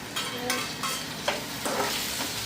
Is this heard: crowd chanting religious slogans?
no